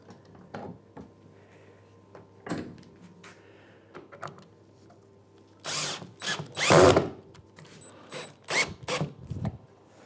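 A power drill drives a screw into a wooden piece clamped in a vise. Short whirring bursts come in quick succession, close and fairly loud, amid quiet workshop handling noises.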